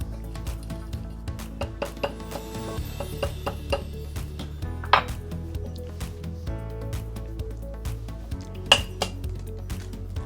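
A utensil mixes dry batter of flour, baking powder and cornstarch in a bowl for chicken fried steak, making steady close scraping and clinking against the dish with a few sharper knocks.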